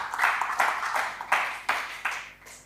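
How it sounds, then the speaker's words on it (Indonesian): A church congregation claps together in a few brief rhythmic bursts during a worship service, the claps moderately close and fairly soft. "Berikan tepuk tangan, haleluya."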